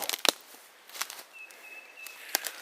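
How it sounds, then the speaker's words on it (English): Faint bird chirps and a thin whistle-like call sound in a quiet outdoor setting, with a few soft rustles and taps. "I'm hearing a fair amount of bird noise"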